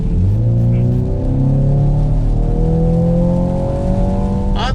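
A new BMW's engine hums steadily on a road in Palm Springs, California, with a smooth, continuous drone and slowly rising pitch under gentle acceleration, close and fairly loud throughout.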